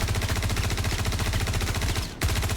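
A custom automatic gun in a video game firing a rapid, continuous burst of evenly spaced shots, loud and close, with a brief break near the end before firing resumes.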